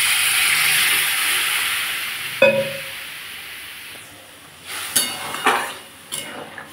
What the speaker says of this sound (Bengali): আমি এবার এতে একটু জল দিয়ে দেবো।